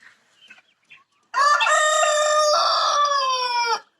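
A village rooster crows once, loud and close, a long harmonic call after a few faint soft sounds.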